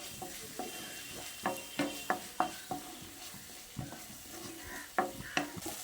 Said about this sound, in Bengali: টমেটো ক্যাপসিকামের সঙ্গে আবারও ভালো করে নেড়ে চেড়ে মিশিয়ে নিচ্ছি